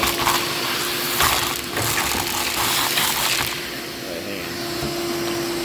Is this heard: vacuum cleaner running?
yes